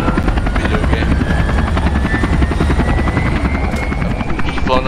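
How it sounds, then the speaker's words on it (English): Helicopter flying in the VR video game BoneLab, a loud, continuous rotor chop with a rapid pulsing beat and engine whine that fills the whole stretch without pause. "We're flying a helicopter in a paranormal hell."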